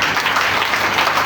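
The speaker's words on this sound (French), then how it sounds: "Acclame Jésus" A church congregation applauds in dense, continuous clapping that stays loud and even throughout, with no voices standing out.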